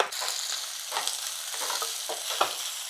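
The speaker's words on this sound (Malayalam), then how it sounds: "ഇതാ സവോള ഇട്ട് കൊടുക്കാം ഒരു സവോള അരിഞ്ഞത്" Chopped onion sizzles in a pan with a bright, constant frying hiss and light scraping stirs, close up, with no voices.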